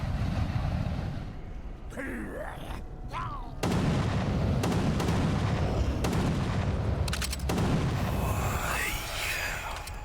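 Heavy shotgun blasts in a demon-hunting video game, several loud booming shots spaced apart over a rumbling game soundscape.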